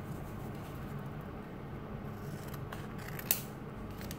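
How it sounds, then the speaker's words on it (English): Scissors snip through a Pokemon trading card, a single sharp close cut near the end after a stretch of quiet rustling and faint handling noise. "cut the card right here"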